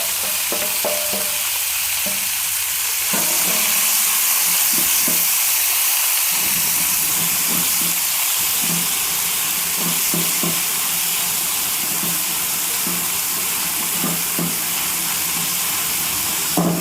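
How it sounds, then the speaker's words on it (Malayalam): Banana flower stir-fried in a pan over a low flame for Kerala-style thoran, giving a steady close sizzle and hiss with repeated scraping, stirring knocks throughout, and no voices. "ഇതിലേക്ക് നമുക്ക് കുടപ്പനിട്ട് കൊടുക്കാം, വാഴക്കുടപ്പനിട്ട് കൊടുക്കാം"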